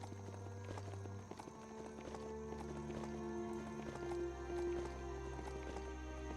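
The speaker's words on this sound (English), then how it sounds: "Riding on my robot horse." Hooves of a robot horse clip-clop steadily in a PS5 video game while the mount runs, with a low droning game soundtrack running continuously underneath.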